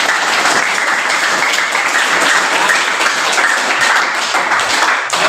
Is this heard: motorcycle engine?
no